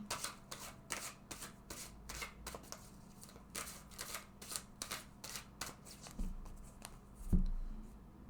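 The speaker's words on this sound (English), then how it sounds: "I'm going to take a card from each of these decks." Tarot cards shuffled and drawn from several decks during a card reading, giving a steady run of soft riffling and flicking strokes up close, followed by a couple of duller knocks near the end, with no speech.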